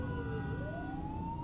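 A police car siren in a video game wails steadily, its tone sweeping upward, loud and continuous throughout with no voices over it.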